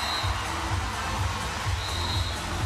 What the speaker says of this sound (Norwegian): Applaus da fra de som står over.